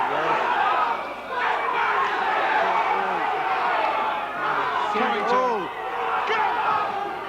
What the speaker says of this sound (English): everybody's trying to cheer him to get off the ropes